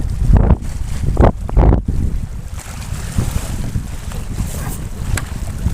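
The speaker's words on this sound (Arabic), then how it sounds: "فاعذروني بقى لو صوت الهواء كان شديد شويه عن صوتي" Strong wind buffets the microphone on a fishing boat at sea, a steady roaring rush with heavy low gusts thumping hardest in the first two seconds, then a constant blustery hiss mixed with water noise.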